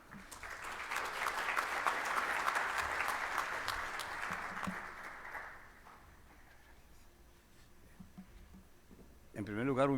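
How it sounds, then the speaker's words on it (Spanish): Applause greets a doctor introduced at an international security and defence symposium, a dense hall-wide clapping that swells then fades after about five seconds, leaving quiet room noise before a voice starts at the end. "Recibamos con un aplauso al doctor Francisco José Mojica"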